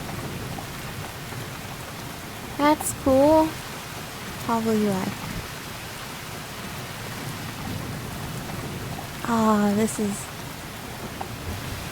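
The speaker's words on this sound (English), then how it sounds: "Oh, it's raining." Steady rain and low rumbling thunder in the video game Cabin Fever, a constant hiss under someone talking in short bursts.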